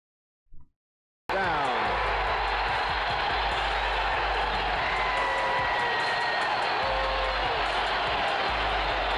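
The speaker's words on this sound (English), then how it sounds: "Loud ass crowd." A loud basketball playoff crowd roars continuously and densely, a steady wall of cheering that starts abruptly after a brief quiet moment.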